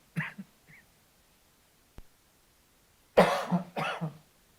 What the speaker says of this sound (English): Is that COVID? Yes, sir. Coughing.